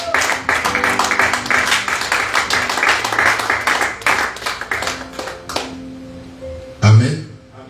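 A church congregation breaks into sustained applause and cheering, dense rhythmic clapping mixed with voices filling the room for about six seconds before fading out, followed by a brief low thump.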